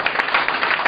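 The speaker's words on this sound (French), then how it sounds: "je vous propose de l'applaudir, il va venir avec nous" Audience applause breaks out to welcome David Dussard onto a stage, a dense, steady wash of many hands clapping close and loud with no voices over it.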